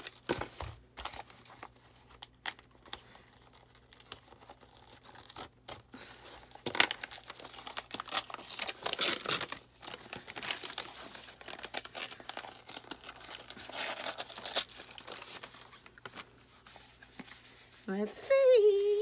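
Gold paper shred crinkles and rustles in bursts as a mail package is unpacked by hand, close and busy, with a voice speaking briefly near the end.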